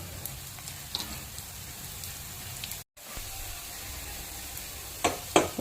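Semolina paniyaram frying in a pan over high flame, giving a steady, fairly loud hiss and sizzle with small crackles and a brief dropout midway, then a few brighter pops near the end; no voices.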